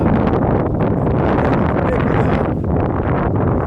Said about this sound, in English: the wind is just blowing like crazy